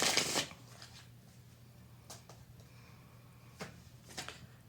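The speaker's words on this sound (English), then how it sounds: "One more really good shuffle." Tarot cards being shuffled by hand, a loud riffling burst at the start followed by a few softer, brief shuffles and taps against a low steady hum.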